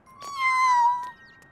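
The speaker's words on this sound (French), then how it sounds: "Oh, un chaton!" A kitten in a children's cartoon gives a single drawn-out, high meow lasting about a second, clear and close, with no talk over it.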